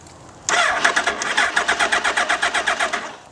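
A motorcycle engine cranks over and over without catching, a steady run of rhythmic starter pulses close by with no voices.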